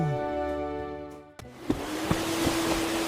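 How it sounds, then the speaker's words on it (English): A vacuum cleaner in a cartoon switches on with a sudden loud, steady whooshing roar and a low hum, cutting off the soft musical tones before it and droning on with a few faint knocks. "Oh no! The vacuum!"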